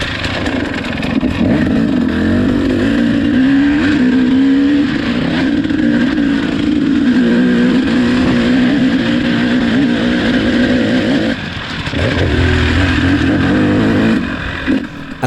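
A KTM two-stroke dirt bike engine roars continuously around a track, revving up and down through the lap, loud and close with no talking.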